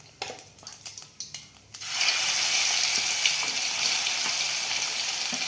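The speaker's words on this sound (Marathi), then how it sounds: "तेल तापले, जिरं टाकूया, मोहरी टाकूया" Cumin and mustard seeds hit hot oil, starting with a few clinks and stirs and then breaking into a loud, steady sizzle and crackle that holds to the end.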